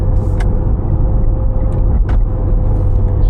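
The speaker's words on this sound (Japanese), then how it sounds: "シフトダウンの時もの音も気持ちいいっすね" A 280-horsepower Mitsubishi Lancer Evolution X (CZ4A) with S-SST gearbox downshifts, its engine a loud, steady low rumble from inside the cabin, broken by brief higher-pitched mechanical bursts.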